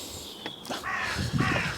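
A crow cawing near a car in a parking spot, several harsh, hoarse calls in quick succession, close and fairly loud, with no talking.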